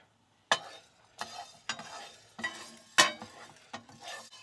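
Whole peppercorns toasting in a dry pan, with a series of sharp rattling shakes and stirring strokes at irregular intervals, each followed by a light sizzle, close and clear, with no talking.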